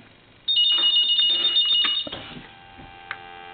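A telephone bell rings loudly and steadily for about a second and a half, then cuts off, leaving a faint hum and a soft click.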